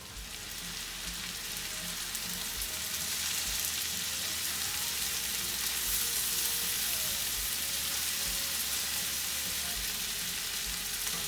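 Winter squash and mixed vegetables sizzle and crackle in a hot pan during a stir fry, with a steady close frying hiss and occasional soft stirring knocks, no voices over it.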